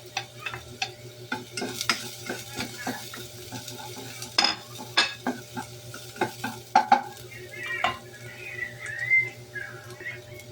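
Garlic sautéing in a pan for chicken tinola, a steady close sizzle broken by scraping stirs and light metal clinks of a utensil against the pan, with no talking.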